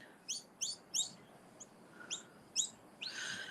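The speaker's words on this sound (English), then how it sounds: "up above me I can hear Noisy miners" Several sharp, high calls of noisy miner birds repeat in quick bursts overhead, a pause, then more calls ending in a longer chattering run, against faint background hiss.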